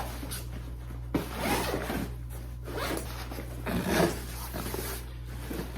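A zipper is pulled along a Killer Instinct crossbow case, several close, scratchy zipping strokes in a quiet room, with a steady background hum.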